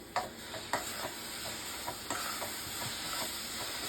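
A mango and coconut filling with sugar and jaggery is stirred in a pan over low heat, with soft scraping strokes at irregular intervals over a steady background hiss of gentle cooking.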